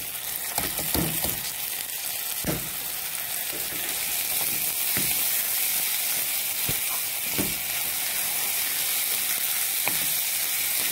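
Rice for lentil koshari fries in a pot with a dense, continuous crackling sizzle, close and loud, and a few heavier stirring scrapes and knocks near the start and scattered through.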